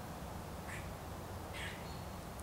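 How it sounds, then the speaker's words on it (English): A squirrel squawks from a tree nearby outdoors, giving two short harsh calls about a second apart, faint against a steady wash of background noise. "I hope you guys do like the squirrel squawking at me in the tree nearby"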